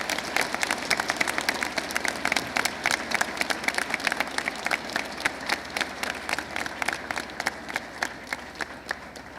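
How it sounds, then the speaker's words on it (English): An audience at a high school Veterans Day assembly applauds veterans with steady, sustained clapping from a large crowd, evenly dense throughout and gradually thinning toward the end. "Please give these veterans a round of applause"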